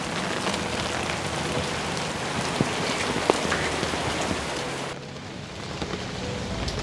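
Steady rain pattering on surfaces nearby, a dense continuous patter with a few sharper drops, softening slightly near the end.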